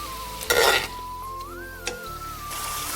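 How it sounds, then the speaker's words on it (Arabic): Onions fry in a pan with a steady sizzle, broken by a couple of louder scraping stirs and a faint clink of utensil on metal, close by and with no talking. "نحمر البصل بنفس المقلاة"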